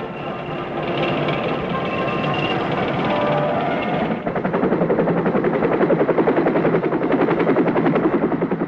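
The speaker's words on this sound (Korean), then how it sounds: "이제 우리 농촌에는 경비행기와 고성능 분무기로 농약을 살포하는 광경도 볼 수 있게 됐습니다." A light aircraft flies over farmland spraying pesticide, its engine a loud, steady drone that shifts midway into a rapid, rhythmic pulsing as it passes close.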